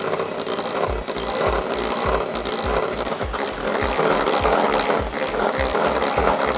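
An electric hand mixer beats chocolate cake batter at a higher speed, giving a steady whirring drone with rapid rhythmic clicking pulses, close and continuous with no talk.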